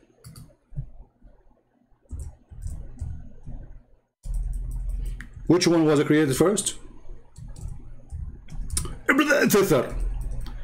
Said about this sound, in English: my keyboard sometimes is not functioning. I have to type it twice